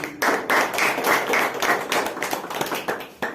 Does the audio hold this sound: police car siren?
no